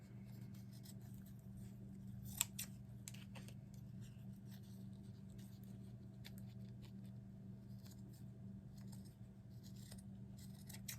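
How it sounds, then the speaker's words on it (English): Fabric scissors snipping through burlap, a quiet, close series of crisp cuts and crunching fiber sounds over a low steady hum, with a couple of sharper snips standing out. "which I need my fabric scissors for this one"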